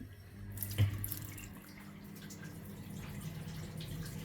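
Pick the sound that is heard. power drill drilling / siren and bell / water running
water running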